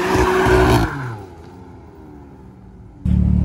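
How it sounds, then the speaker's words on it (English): BMW M2 CS with a loud aftermarket exhaust doing a burnout: a loud, roaring engine note with tire squeal for about a second, dropping to a lower rumble, then a sudden loud burst of engine noise at the end. "Burnout!"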